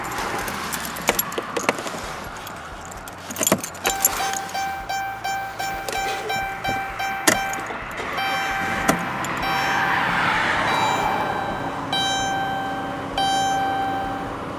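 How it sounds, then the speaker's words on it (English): Keys jangle and a run of rhythmic clicks follows, then a 2011-2013 Chrysler Town & Country engine turns over after a battery replacement and settles into a steady running hum. "Now let's start the car, see everything's okay."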